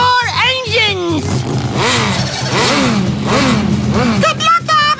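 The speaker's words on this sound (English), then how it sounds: "Start your engines!" Race car engines drone and rev steadily in an Elmo alphabet racing video game, mixed with lively cartoon voices and music-like tones over the top.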